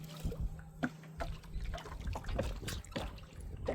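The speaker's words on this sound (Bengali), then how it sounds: "জল ছিটকাচ্ছে।" Fish splash and stir the water of a river in summer heat near a line of baited hooks, irregular close slaps and trickles at low volume with faint background noise.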